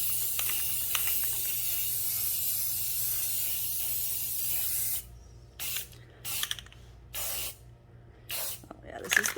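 Aerosol spray paint hisses onto a vase in a hot garage, a continuous loud spray for about five seconds, then several short bursts separated by pauses.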